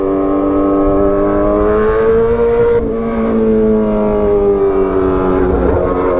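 A motorcycle fitted with a loud aftermarket "knalpot petir" exhaust revs hard and close, its loud, rough exhaust roar droning steadily, dipping briefly before surging again.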